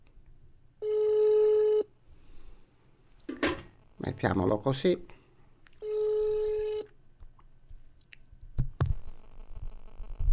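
A telephone rings twice, each ring about a second long, with a person talking between the rings and a few beeps afterward.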